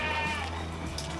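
A La Mancha goat, the earless breed, bleats in one steady, wavering call at middling distance, with no voices around it.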